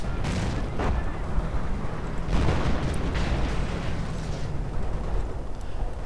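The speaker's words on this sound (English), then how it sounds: "Artillery going in." Artillery fire in a World War II strategy video game produces repeated rumbling booms and bursts over a constant dense din of battle, loud and sustained with no clear gaps.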